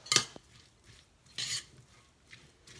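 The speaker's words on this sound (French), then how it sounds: "On va tout mélanger." Gyoza dumpling filling stirred in a bowl: two sharp scraping clinks of a utensil against the bowl, with softer stirring scrapes between them, close and fairly quiet.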